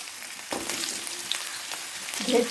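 Potatoes fry in hot oil in a wok, a steady close sizzle with a few faint stirring scrapes and a brief voice near the end.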